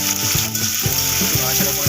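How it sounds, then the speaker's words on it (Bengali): Potatoes fry in hot oil for chicken singara, a loud, dense sizzle with rhythmic metallic scraping and clanks from the pan. "আলুটা আমি ভালোভাবে ভেজে নেব বলেছিলাম"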